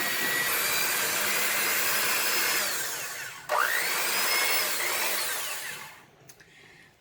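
An electric mixer whirs steadily as it beats powdered sugar frosting for a wedding-style cake, a loud continuous drone that dips briefly, resumes, then winds down near the end.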